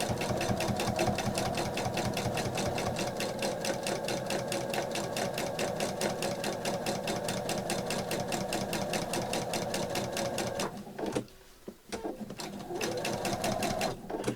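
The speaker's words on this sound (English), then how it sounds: "I'm sewing over again, and I'm going to carry on onto the other side and top stitch back up to the end" A sewing machine top stitches along a zip, running in a steady, fast continuous rhythm close up, pausing briefly near the end before resuming.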